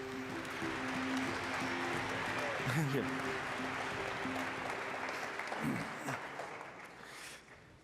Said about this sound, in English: you guys get all the applause